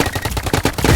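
Rapid burst of gunfire in the video game Big Paintball 2, a quick run of sharp close shots about one second long, heard alone.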